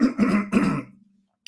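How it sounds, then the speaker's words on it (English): A person clears their throat with three short, rough bursts in quick succession, then trails off into a faint hum, with a small click at the end. "Never seems to matter how much I try to clear my throat"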